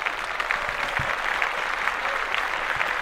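Steady applause from a studio audience fills the stretch, dense and even without pause, with no talk over it.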